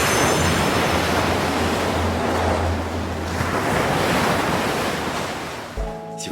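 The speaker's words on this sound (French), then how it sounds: "Si vous filmez la mer, mettez un bruit de vague." Ocean waves surge and wash continuously, a broad rushing roar with gusty wind noise buffeting the microphone.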